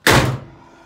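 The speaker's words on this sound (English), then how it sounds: "Swing these garage doors open" Garage doors swing open with a heavy, hollow thunk at the start, then a brief resonant rattle that fades out quickly; close and loud with no talking.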